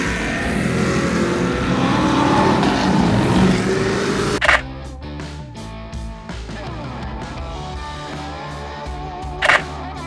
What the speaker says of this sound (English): all of the cars ripped past us with loud, stinky V8s